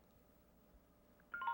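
Telephone keypad tones come through a call line, a brief burst of dialing beeps arriving after a near-silent pause.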